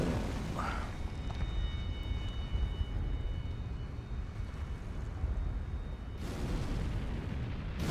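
A thrown pot detonates in Elden Ring at Recluses' River, a heavy, rumbling blast that rolls on for several seconds with a second swell of crackling debris near the end, loud and with no voices.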